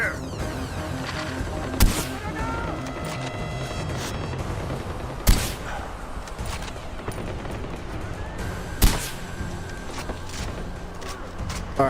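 Enemy gunfire in Far Cry 4, a clattering battle of rapid shots and bursts with several loud booming cracks at spaced intervals, under game music and voices talking over the fight.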